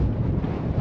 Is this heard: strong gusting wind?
yes